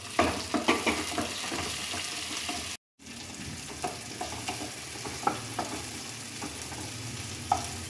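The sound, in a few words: tomatoes added to sizzling ghee and onions, stirred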